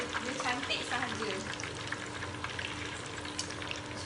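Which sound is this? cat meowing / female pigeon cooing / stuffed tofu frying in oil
stuffed tofu frying in oil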